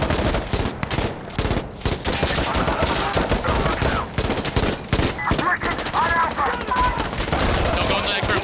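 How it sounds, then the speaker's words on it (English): Rapid gunfire bursts from a firefight in the video game Insurgency Sandstorm, loud and dense throughout, with sharp repeated shots, some overlapping volleys and faint voices mixed in. "I don't know where I'm getting shot at from."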